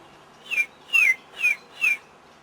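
A clear whistled imitation of a spotted flycatcher's song: four thin, high, slightly falling notes with short pauses between them, close and distinct.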